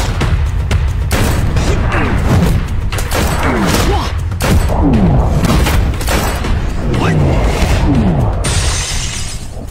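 Gunfire in a martial arts film parody, loud bursts of shots and shattering impacts mixed with music and effects, with a voice briefly heard between the blasts.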